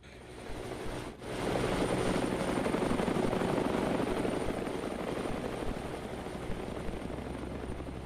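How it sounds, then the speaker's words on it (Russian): Two military helicopters pass overhead in a VR survival game, a loud, sustained rotor roar swelling in after a brief quiet moment and holding steady. "Вертолет летит. Два вертолета военных."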